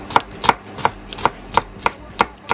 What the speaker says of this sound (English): finally chopped up that mountain of garlic